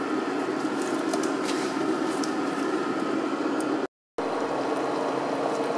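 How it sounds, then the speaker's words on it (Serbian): A Croatian-style fish brodet with white wine simmers in a pot on low heat, giving a soft, even bubbling hiss that runs on steadily, briefly cut to silence near the end before resuming. "Evo, brodo se kuva na laganoj vatri."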